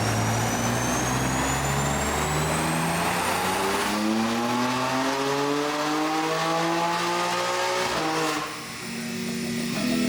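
A tuned BMW M3 with pure turbos, meth injection, cams and exhaust, making 740 horsepower, screams as it climbs steadily through the revs on a dyno, loud and close, then backs off and rises again briefly.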